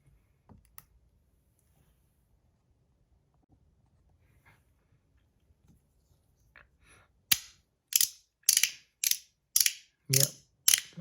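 A fidget toy's clicking mechanism snaps out a series of about seven sharp, evenly spaced ratcheting clicks, close and loud, after several seconds of near silence broken by faint handling.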